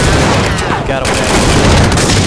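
Gunfire in Counter-Strike 1.6 on PC, a dense, loud burst of overlapping shots and blasts filling the whole clip with barely a pause, with voices faintly mixed in.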